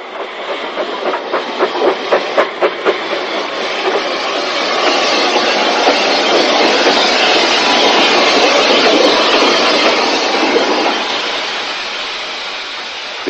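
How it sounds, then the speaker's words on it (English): A narrow gauge steam train, the last to leave Welshpool before the line closed toward Raven Square, rolls past with a loud steady roar and rhythmic wheel clatter that swells and then fades slightly. "The very last train to run out of Welsh Bull prior to total closure of the section of line"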